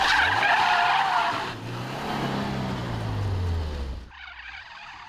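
A car drifting between two objects lets out a loud, sustained tire screech, its engine note sliding down in pitch before the skid cuts off and a quieter rumble remains.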